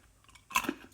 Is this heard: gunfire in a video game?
no